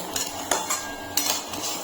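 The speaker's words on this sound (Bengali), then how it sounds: "এখন আমি আবার ভালো করে ভেজে নেবো" Rice frying in a pan for sweet, salted pulao, stirred with a metal utensil that gives sharp clinks and scrapes against the pan at irregular intervals, fairly close.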